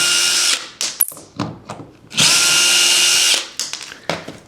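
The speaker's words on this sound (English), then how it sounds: "I'm going to take these 3 screws out" A power drill backs screws out of a sagging door's hinge, two loud, close bursts of whining motor separated by short clicks, knocks and brief trigger blips, ending with a few quick revs.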